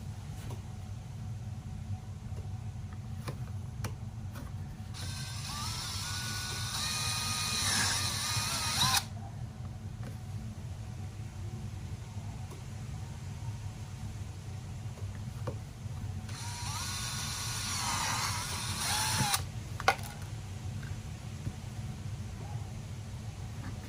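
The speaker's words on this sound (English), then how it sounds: "Go ahead and drill those out." A power drill whirs in two bursts of a few seconds each, high-pitched and close, drilling out parts on a Sig P320 pistol, over a steady low background hum.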